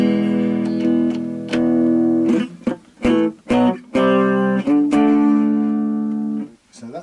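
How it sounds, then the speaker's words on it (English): An electric guitar plays through the humbucker pickup of a Yamaha Pacifica. Clean sustained notes and chords ring loud and close, broken by short choppy strums and brief pauses, with no talking. "So that's the sound of the humbucker."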